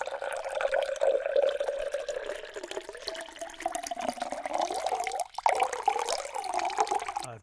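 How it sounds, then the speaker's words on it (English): Water pouring steadily in a continuous splashing stream, close and fairly loud, with a gurgling shift partway through before it tapers off at the end. "I've got some water pouring"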